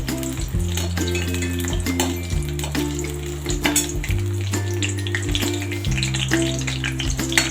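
Curry leaves and garlic fry in hot oil for a Malvani-style prawn curry, giving a steady broadband sizzle with scattered crackles that runs throughout, beneath sustained low tonal bands that shift in pitch.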